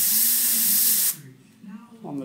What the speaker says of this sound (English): I'm actually spraying onto the shield.